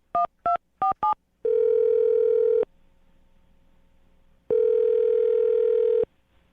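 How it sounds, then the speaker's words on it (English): A landline phone call being placed for a morning radio show: four short DTMF keypad beeps in quick succession, then two long sustained ringback tones separated by a quiet pause, loud and clear with no talking. "I'm going to dial her phone number right now and get her on the phone"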